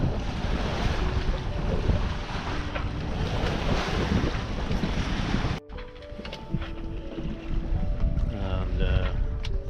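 Steady wind rush and lapping waves surround a sailboat under way in sunny, breezy weather, loud and continuous with a brief dip midway and faint voices underneath.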